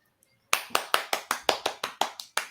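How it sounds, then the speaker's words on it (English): Several people clap their hands in a classroom commands game, a brisk run of about ten sharp, close claps at an even rhythm after a brief pause. "y'all should be continuing to clap your hands"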